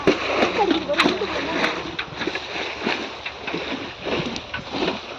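A catfish thrashing in the water in a village fishing spot, giving repeated irregular splashes and churning slaps close by, with people talking over the commotion and wind buffeting the microphone.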